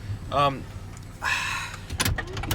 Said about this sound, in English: Door has a mind of its own right now.